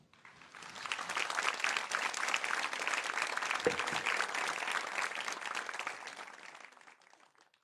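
An audience claps for a singer of a Kyrgyz folk song, applause swelling quickly into a full, steady patter, holding for several seconds and then tapering off toward the end.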